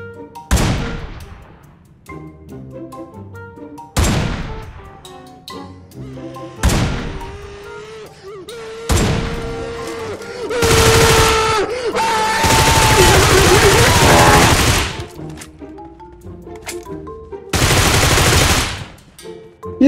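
Gunfire in PUBG Mobile, played at 90 FPS on an Infinix GT 20 Pro: sharp single shots ring out at intervals, then longer rattling automatic bursts, loud and close, with a few tonal game sounds between.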